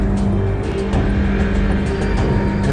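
Pink off-road race car at the Kameel 200 race pulling away, a loud close engine roar with gritty rumble and tyre noise, continuous for a few seconds with no talk.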